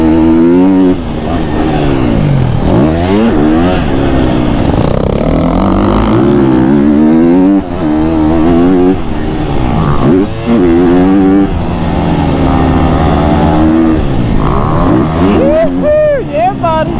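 A KTM 250 SXF four-stroke dirt bike rides through woods, its engine loud and close, revving up and down in repeated rising and falling pitch sweeps, with voices talking over it.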